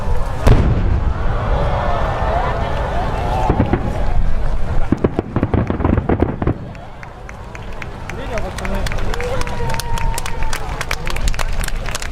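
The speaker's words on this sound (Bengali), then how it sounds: "নয়শো পাউন্ড বা চারশো পঞ্চাশ কেজি ওজনের একটি ফায়ার বল ফাটানো হয়" A giant 450 kg fireball firework bursts, with loud booming and crackling blasts throughout, a sharp crack near the start and a cluster of pops around the middle, over a steady roar and crowd noise, with voices heard.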